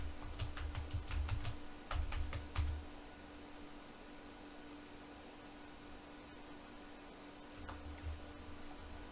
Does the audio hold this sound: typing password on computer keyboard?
yes